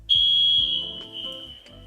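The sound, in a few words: alarm going off in the room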